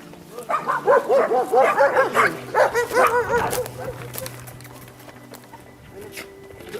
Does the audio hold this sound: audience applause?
no